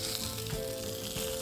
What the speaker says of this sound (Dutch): Laat hem bakken aan de onderkant.